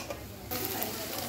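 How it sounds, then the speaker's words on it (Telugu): Tempering sizzling in a pan while making millet pongal, a dense hiss that jumps louder halfway through, close and steady over a low background hum. "దానికి తాలింపు పెట్టుకుందాం."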